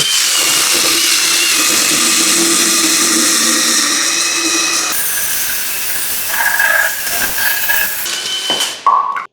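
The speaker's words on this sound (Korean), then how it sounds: "안전 스위치 누르고 이렇게 체인톱이 돌아가면 절단을 해주시면 됩니다" A chainsaw cuts through a log that fills the whole guide bar. Its loud, steady motor whine runs throughout, shifts in tone partway through the cut, then winds down abruptly at the end, with no talking.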